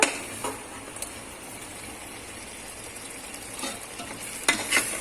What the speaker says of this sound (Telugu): హై ఫ్లేమ్లోనే ఉందండి. సో మూత పెట్టేసుకుందాం దీని మీద. సో కలుపుకుందామండి.